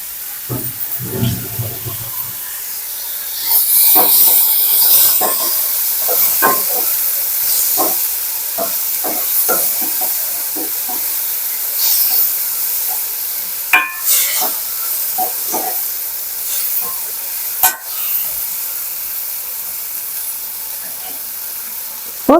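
Prawns sizzle in a pan with oil for a prawn and lady's finger curry, a steady loud frying hiss broken by irregular pops and crackles, plus occasional clinks and scrapes of stirring.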